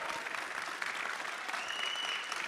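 Audience applause at a SXSW 2024 live event, a sustained, fairly soft spread of clapping from a crowd, steady from start to finish with no talk over it.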